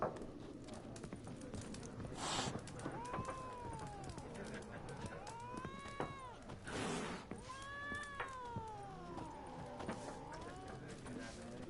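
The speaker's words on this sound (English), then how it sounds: "this cat does not like me" A cat in The Witcher 3: Wild Hunt meows repeatedly in drawn-out, wavering cries, with several calls spread over a few seconds amid soft game ambience.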